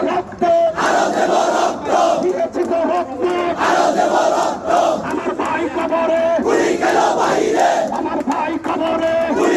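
A large protest crowd roars Allahu Akbar in unison after a takbir call at a rally in Chittagong, a loud, sustained massed chant with rising and falling surges of many voices.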